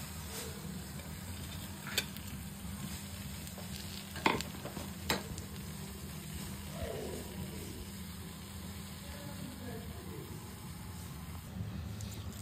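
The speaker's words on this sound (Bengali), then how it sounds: "এইভাবে একে একে আমি সবগুলোই ভেজে নিচ্ছি।" Chicken pieces frying in hot oil give a continuous soft sizzle with occasional sharper pops and crackles and a few clinks of a utensil, close but fairly quiet, with no speech.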